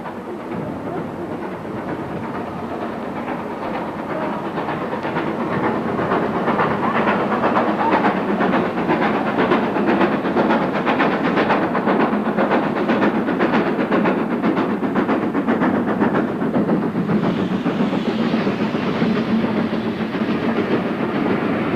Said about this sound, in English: Devon Banks now echoed properly to the sounds of steam.